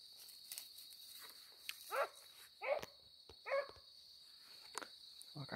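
Hunting dogs on a night armadillo hunt giving a few distant yelping barks spaced seconds apart, with a steady insect chirp in the quiet background.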